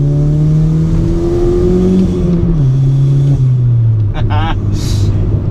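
Modified Volkswagen MK5 Golf GTI pulling hard through second and third gear, a loud, steady in-car engine drone rising in pitch, dropping at the shift and climbing again, with a brief whooshing blow-off near the end.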